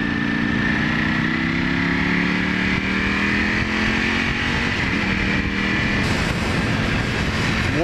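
A Ducati Panigale V4 motorcycle engine drones loudly and steadily up close throughout, its pitch wavering and climbing slightly as the bike rides. No one speaks.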